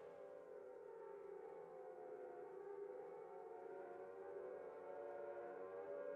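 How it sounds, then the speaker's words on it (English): An air-raid siren from the video game Silent Hill wails as a steady, sustained drone. It is faint and distant, with no one talking. "Hear the sirens."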